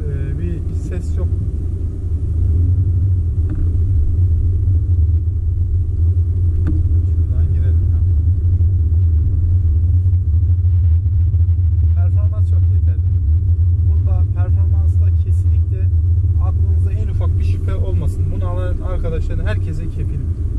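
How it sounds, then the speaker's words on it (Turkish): Skoda Yeti 1.6 TDI diesel engine heard from inside the cabin, a steady low rumble droning throughout beneath someone talking. "Tabii ki şu dizel sesini duyuyorsunuz ama böyle aman şahım rahatsız eden bir ses yok."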